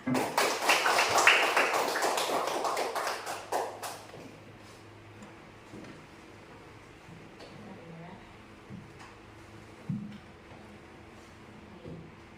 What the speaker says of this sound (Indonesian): Tepuk tangan buat Rebu Piket hari Jumat